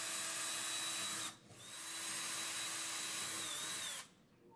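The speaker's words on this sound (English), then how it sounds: "drill the holes for the fasteners using the marked holes" A power drill drills pilot holes for wall anchors, whirring steadily, pausing briefly, then spinning up again for a few seconds before stopping; close and fairly quiet.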